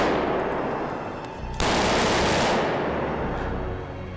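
Rapid bursts of gunfire fired down a street, sound effects from the video game Batman: Arkham City, crack loudly with quick echoing reflections off nearby walls, a sharp volley midway decaying into a reverberant tail.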